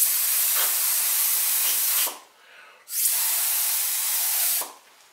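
A sprayer hisses loudly as wood ash glaze is sprayed onto pottery, in two long continuous bursts separated by a brief quiet pause.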